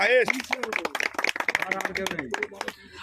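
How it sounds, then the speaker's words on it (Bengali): A small group of people clapping in scattered, uneven bursts at a village fishpond, close by and mixed with voices talking over the claps. "সবাই একবার হাততালি হয়ে যাক"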